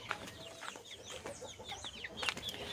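Chickens cluck repeatedly inside a coop on a small farm, with several birds giving short, overlapping calls close by and a brief flutter of wings among them.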